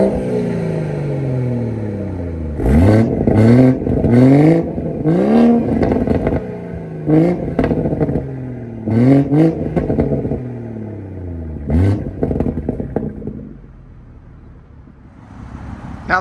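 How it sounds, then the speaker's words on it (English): A BMW 340i with a B58 engine and a Dinan full exhaust revs repeatedly, several sharp throttle blips rising and falling in quick succession, loud and close, before settling back to a steady idle. "Now we'll go ahead and get some revs and comfort as well as sport modes."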